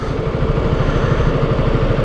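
KTM Duke 125 motorcycle ridden through a city, its small single-cylinder engine giving a steady, close, low throbbing drone that holds level without any voices.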